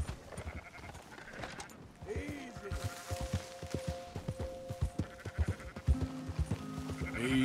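A flock of sheep bleats repeatedly while being herded on horseback in Red Dead Redemption 2, overlapping calls near and far over soft hoofbeats and occasional voices.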